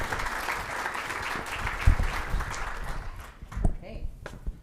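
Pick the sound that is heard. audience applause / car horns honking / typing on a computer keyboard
audience applause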